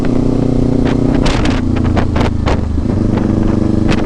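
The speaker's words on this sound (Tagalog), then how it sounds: "Grabe mga ka-throttle, sobrang solid na itong Ninja 500." A 2024 Kawasaki Ninja 500 SE motorcycle accelerating, its engine drone loud and sustained under strong wind buffeting, the pitch shifting midway as it pulls harder.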